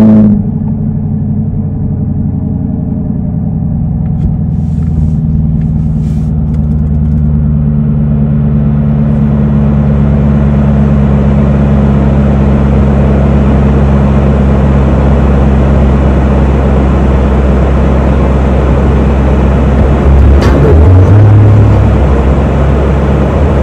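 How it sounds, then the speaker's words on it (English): A 2023 Chevrolet Camaro 2SS 1LE with dual valve exhaust fires up and settles into a loud, deep, steady idle rumble heard up close, with a brief rise in revs near the end. "Start's always nice with the dual valve."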